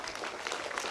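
Brief burst of audience clapping welcoming a guest at a charity event at Jos Alukkas in Theni, a dense patter of many hands, short and fairly close.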